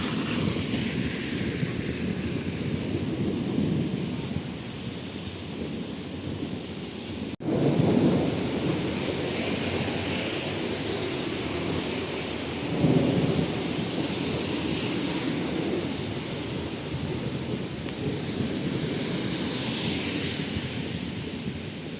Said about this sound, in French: On n'est pas bien là, sous l'orage.